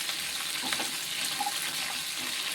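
Okra (ladies finger) sautéing in hot oil in a pan for a tamarind curry, giving a steady, moderately loud hiss and sizzle throughout with a few soft stirring touches and no talking.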